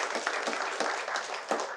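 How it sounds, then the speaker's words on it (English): An audience applauds at a conservation talk on endangered Asiatic lions, a dense steady patter of many hands clapping close by for a short stretch. "I think she really deserves all our applause."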